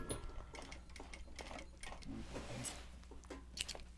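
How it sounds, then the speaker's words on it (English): A sewing machine stitches a tack stitch on a Japanese fabric project bag, giving a steady fast mechanical whir with rapid ticking needle strokes. The sound is fairly faint and close, with no talk over it. "Do the tack stitch, the hold stitch here."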